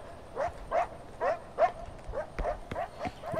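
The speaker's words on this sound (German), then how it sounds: "wirst einfach vom Hund angefallen" A dog in the video game Far Cry 4 barks and attacks in a quick run of sharp, moderately loud barks, about eight in a few seconds, with short gaps between them.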